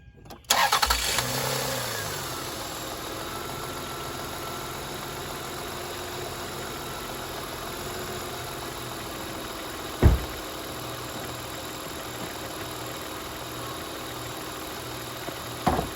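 A 2001 Toyota Camry engine cranks and fires after a battery replacement, then settles into a steady, even idle, with a single sharp knock partway through.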